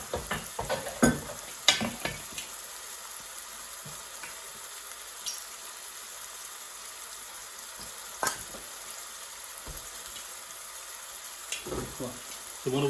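Onion sizzling and frying in a pan while being stirred, a steady soft crackle with occasional louder clinks and scrapes, close and moderately quiet.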